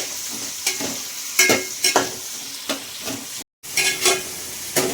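Tomatoes cooking in a pan, a steady close sizzle broken by louder bursts as they are stirred, with a brief silent gap partway through.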